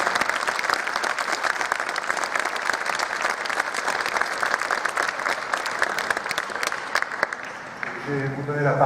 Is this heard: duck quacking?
no